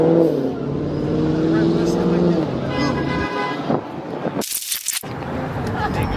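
A Ford Mustang Mach 1 running on E85 fuel with large tires sounds off outdoors at a street gathering, a loud continuous engine roar with a horn-like tone, mixed with crowd voices and a sharp burst near the end.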